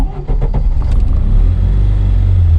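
Car engine on a Russian-built Raptor pickup, sputtering and lacking power, a low uneven rumble with choking irregular pulses, loud and close with no talk.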